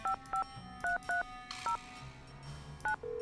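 Telephone keypad tones from a Nancy Drew video game, a run of separate beeps with short pauses between them, each clear and distinct over a faint low background hum, with no talking.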